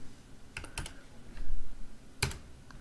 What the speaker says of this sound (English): Hit the tab key to move to the next dimension of the rectangle.